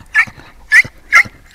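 A large Anatolian shepherd-type dog gives three evenly spaced, close barks with whimpering yelps in between, loud and alone without talk.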